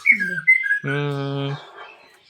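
White-rumped shama (murai) kept for breeding, giving a short burst of clear whistled notes followed by a harsh buzzy call, close and loud.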